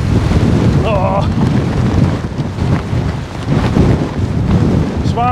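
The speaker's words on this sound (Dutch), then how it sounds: "Met windkracht 7." Force 7 storm wind buffets the microphone on a mountain bike ride through the Schoorl dunes, a loud continuous roar with a couple of faint squeaks.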